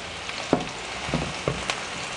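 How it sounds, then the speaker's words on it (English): Carrots quickly frying in a pan, a steady sizzle with a few soft knocks and turns, close and without talk. "You just have to do like a quick fry and turn it on the other side."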